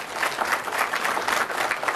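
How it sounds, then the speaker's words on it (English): A conference audience gives medium, polite applause after a talk on the future of C++, a steady wash of many hands clapping at moderate volume for the whole stretch, with no voices over it. "I would call that medium polite applause."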